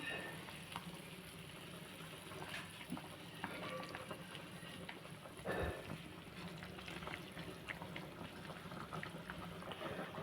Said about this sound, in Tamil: இப்போ குழம்பு கொதிச்சிருச்சு